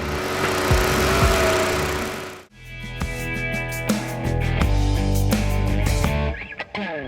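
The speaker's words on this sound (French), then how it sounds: "On sait maintenant qu'un souffleur à feuilles n'est pas seulement utile en automne." A loud leaf blower engine roars steadily, with a brief dip before it revs back up and runs on, then tapers off near the end.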